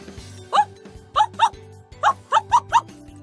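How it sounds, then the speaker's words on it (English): Kotaro the dog barks on a leash in a visual novel game, seven sharp close yaps in uneven groups over a low sustained musical background. "He'd been barking with his leash pull to its limit since a while ago, wanting to jump all over us"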